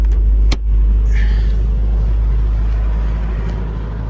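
1989 Toyota pickup with a 22RE engine running cold after a push-button start, a loud, steady low rumble close by, broken early by a brief sharp click.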